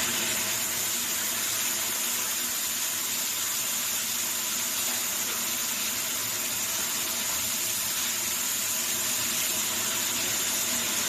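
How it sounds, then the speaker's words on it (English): A steady stream of hot water pours continuously, with an even, hissing rush and nothing else audible. "A little bit of hot water."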